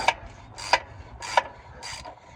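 Wrench loosening the oil drain plug on a 2012 Toyota Corolla: four sharp ratcheting clicks spaced about two-thirds of a second apart, close and moderately loud, with no talking.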